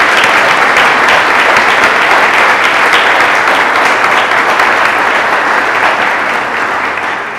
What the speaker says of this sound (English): please join me in one more round of applause for our panel